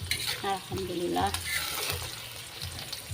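Spices sizzling and being stirred in a frying pan while cooking, a steady broad fry hiss running throughout, with a brief spoken word near the start.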